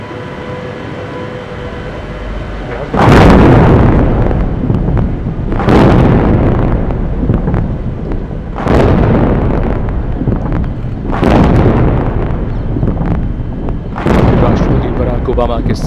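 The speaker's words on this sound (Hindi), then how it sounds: "21 तोपों की सलामी दी जा रही है।" Ceremonial 21-gun cannon salute at the Rashtrapati Bhavan forecourt during a state reception for a US president: heavy booming reports fire at regular intervals of roughly three seconds, each rolling out before the next, with a voice faintly underneath.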